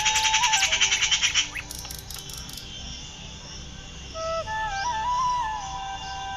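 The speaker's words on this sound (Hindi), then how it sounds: "मेरे पीछे पक्षी बोल रहा है।" A bird calls outdoors with chirps and whistled notes, a rapid repeated trill early on and then clear rising and falling whistles later, fairly close and alone.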